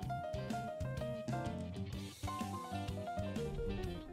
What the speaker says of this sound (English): it's called the minor blues scale